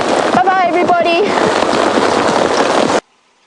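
Steady rain pours down during a morning safari drive at Djuma Game Reserve, a dense continuous hiss lasting about three seconds before cutting off, with a voice talking briefly over the start.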